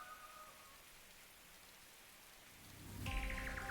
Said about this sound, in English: it's raining this hard